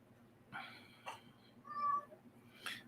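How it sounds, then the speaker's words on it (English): A house cat meows indoors, a couple of short, faint calls, the last one rising and slightly drawn out, over a low steady background hum. "Mow yourself, cat."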